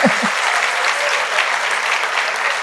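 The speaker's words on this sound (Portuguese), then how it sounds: "Pode aplaudir." A live podcast audience bursts into dense, even applause that stays loud and steady throughout, following a brief bit of talk at the start.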